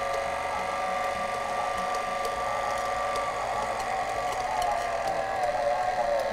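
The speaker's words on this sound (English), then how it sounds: "I'm going to put the mixer up just a little because you want to get it nice and blended" An electric mixer blends thick chocolate chip cookie batter with flour, humming steadily and continuously at moderate volume, with faint scraping ticks against the bowl and no talk.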